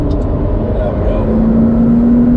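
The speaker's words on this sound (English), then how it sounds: "You hear that turbo spool up?" A McLaren accelerating with its turbo spooling up, a loud close engine drone and a thin rising whine climbing in pitch near the end as it pulls.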